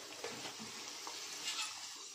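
Suji gujiya frying in oil in a kadhai over a very low flame, a steady soft hiss of bubbling oil with faint crackles, close up and continuous, no talking.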